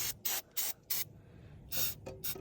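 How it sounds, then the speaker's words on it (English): Carburetor cleaner sprayed onto a riding lawnmower's carburetor in several short, close hissing bursts, four quick ones then a longer spray and two more, with no talking. "you just wanna spray the carburetor, spray all up in there"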